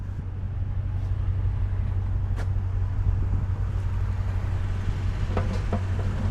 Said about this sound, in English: Wait for this car to go by